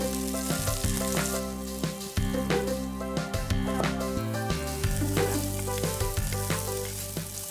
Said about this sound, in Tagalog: Una, igigisa natin itong mga herbs, bawang,